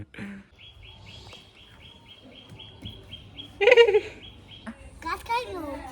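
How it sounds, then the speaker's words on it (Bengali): A caught bird gives a quick run of rapid, regular high chirps, close but soft, while people talk nearby and a louder burst of voices and movement follows. "আব্দুল, দেখা একটা পাখি ধরছি"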